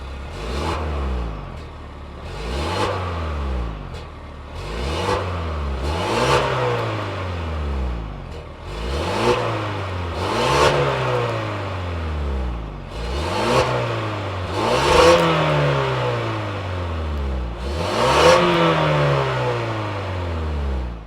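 A 2026 Ford Explorer Tremor's 2.3-liter turbocharged four-cylinder with dual exhaust tips is revved about eight times in a row, each sharp rise in pitch falling back to idle, loud and close with no talk.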